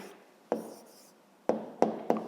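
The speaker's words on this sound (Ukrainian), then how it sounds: "записуємо тоді відповідь" A pen writes an answer on paper during a fifth-grade maths exercise, giving a few short scratchy strokes spaced apart with quiet between them, close and fairly soft.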